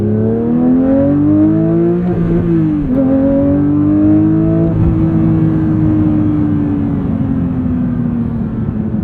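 A 2022 Porsche 911 GT3 engine revs hard toward 9000 RPM, its loud, close howl climbing in pitch, briefly dipping at a gear change, then pulling steadily on, with no talking over it.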